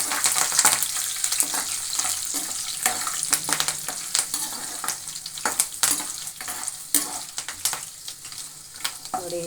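Curry leaves sizzling and crackling in hot oil while making puliyogare, a steady close frying hiss with sharp pops and occasional stirring scrapes.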